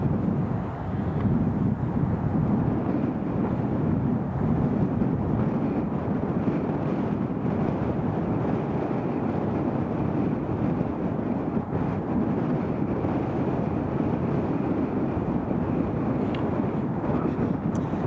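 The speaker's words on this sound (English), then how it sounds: "After this KLM departs," A KLM airplane departs from Edinburgh Airport with a loud, steady low roar of jet engines that holds throughout, heard from a distance with some wind buffeting the microphone.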